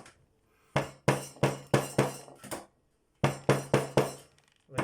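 Sharp metallic hammer blows strike an aluminum sheet being straightened, landing in two quick bursts of about five evenly spaced hits each with a short pause between, close and loud.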